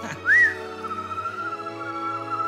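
A single clear rising whistle, a short upward-gliding tone early on, sits over a steady hum of background music in a scene from an Afrikaans film trailer about whistling.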